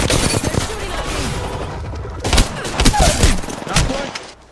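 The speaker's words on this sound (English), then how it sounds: "They're shooting at me." Video game gunfire crackles in loud, dense bursts and volleys, with scattered booms and a voice speaking over the shooting.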